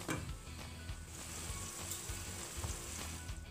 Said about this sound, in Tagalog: Ilagay na po yung siling haba and isunod po yung tomato. Isaute po natin and takpan po siya.